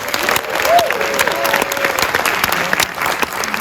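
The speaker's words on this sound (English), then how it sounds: "So give yourselves a big round of applause." Theater audience at a Superman Day guest panel at Warner Bros. Studios applauding loudly, a dense wall of clapping and crowd noise with a few cheers and whoops mixed in.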